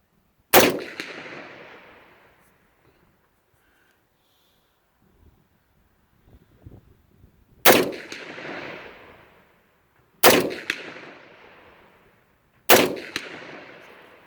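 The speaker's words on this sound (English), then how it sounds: "This gun shoots good." A CAR 15 rifle fires four loud, sharp shots at an outdoor range, one then three more spaced a few seconds apart, and each one rings out and decays.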